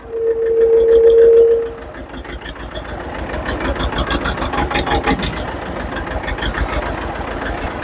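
A farm tractor's engine runs steadily and close by, opening with a loud humming drone for about a second and a half, then settling into a rougher, pulsing chug that carries on to the end.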